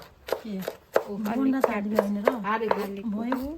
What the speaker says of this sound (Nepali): सानीले काट्दैछिन्।